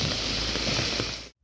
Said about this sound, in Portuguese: Tá caindo muita água aqui, ó.